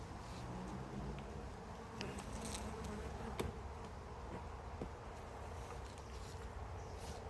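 Honey bees buzz steadily around an open hive at an apiary on a cool day, a soft continuous drone with a few louder individual bees passing near, and faint handling knocks now and then.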